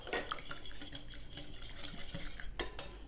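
Yogurt and lemon juice marinade whisked in a bowl for chicken, a quick, soft, wet stirring with light utensil clinks and a couple of sharper knocks near the end, close and fairly quiet.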